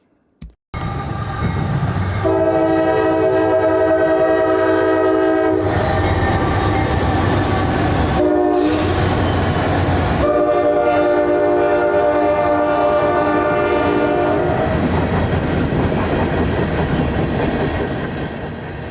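A Norfolk Southern freight train passes close on the Atlanta North line near Austell, Georgia, its loud rumble running throughout under long, sustained horn blasts that sound twice with a brief gap between.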